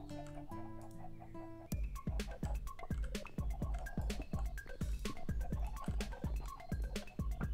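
Chickens on a Minecraft farm cluck in a steady, rapid series of short calls, loud and close, with a soft electronic game tone just before them and no talk.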